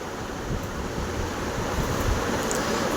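Jaggery and water mixture bubbling in a pan while cooking sweet kozhukattai, a steady dense rush of boiling with no pauses, close and fairly loud throughout.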